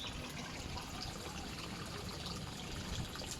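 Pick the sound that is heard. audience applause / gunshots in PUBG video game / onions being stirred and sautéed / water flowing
water flowing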